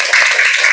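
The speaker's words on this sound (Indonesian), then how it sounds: "tepuk tangan dulu." A short burst of group hand clapping in a classroom gathering of teacher trainees, brisk and fairly loud for under a second.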